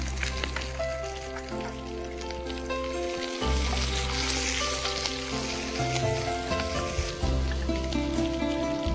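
Ginger, garlic and green chili fry on high flame in hot oil, a loud continuous sizzle with crackling spatter from start to finish.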